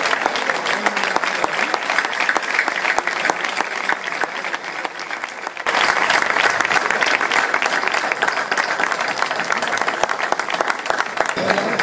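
Sustained, loud applause from an audience at a folk group performance during the Fiestas de la Cruz Santa in Los Realejos, a dense continuous clatter of many hands with a brief dip midway before swelling again.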